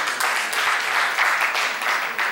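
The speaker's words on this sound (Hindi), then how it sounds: "स्वागत करिए, तालियों से उत्साह बढ़ाइएगा।" A crowd at a Hindi poetry recital gives a short burst of steady clapping to welcome a poet, moderately loud and continuous throughout.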